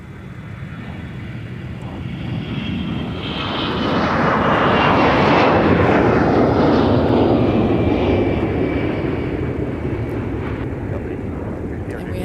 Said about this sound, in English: That departure on the north side kind of in the background.